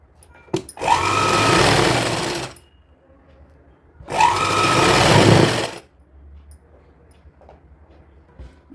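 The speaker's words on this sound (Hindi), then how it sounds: "अस्तर को और मेन कपड़े को ज्वाइंट करने के लिए हमको एक सिलाई लगानी है इस पे" A sewing machine stitching a lining to the main fabric of a small child's dhoti kurta, two loud steady runs of fast mechanical whirring separated by a short pause, with faint handling noises between them.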